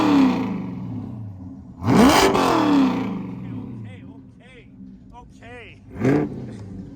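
A car at a late-night car show revs hard in a loud burst near the start, then settles into a lower idle while people talk over it, with another short rev toward the end.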